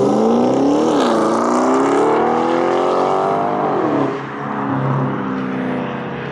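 An Audi S4 V8 revs hard and accelerates away, its loud engine roar climbing through gears and then easing as it pulls off into the distance, with no one talking.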